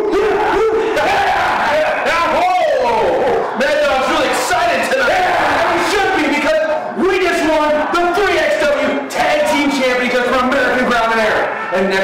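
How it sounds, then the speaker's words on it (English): A wrestling event crowd roars and yells continuously after a pinfall three count, a loud sustained wall of cheering and whooping from the arena audience with excited shouts rising throughout. "This crowd rose to its feet as soon as they heard that three count."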